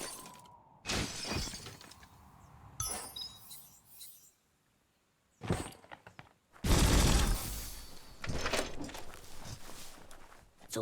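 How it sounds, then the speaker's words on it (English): A box being smashed in Biomutant, with sharp breaking and shattering bursts, a loud crunching crash near the middle and scattered debris clatter around it, separated by quiet gaps. "You shouldn't worry about smashing up the box."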